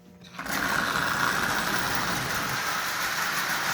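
The motor of a Marx 898 toy locomotive starts up and keeps running with a steady, high-pitched electric whir, close and even, with no talk.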